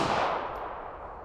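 A single shot from a Walther PPK/S pistol, a loud sharp crack right at the start that trails off into a fading reverberant tail with no talking.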